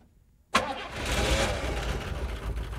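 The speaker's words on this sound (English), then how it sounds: "the thing is probably going to crank at the proper speed such that it would fire up" A car engine catches suddenly after a long near-silent pause, bursting loudly to life and then settling into a steady, rumbling idle close by.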